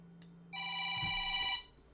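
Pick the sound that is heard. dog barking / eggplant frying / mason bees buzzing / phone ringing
phone ringing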